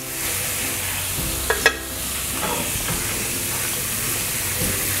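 Garlic ginger paste and whole garam masala frying in a pan, a steady broad sizzle with a couple of brief utensil knocks early on.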